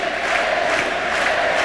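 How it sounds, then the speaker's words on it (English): A large baseball crowd at an Orioles playoff game against Cleveland roars and chants Eddie, a loud, sustained wash of massed voices heard from within the stands. "now you hear the crowd chanting"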